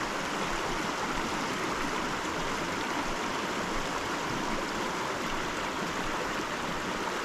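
A small mountain creek flows steadily, a soft, even babble that carries on without a break and without voices.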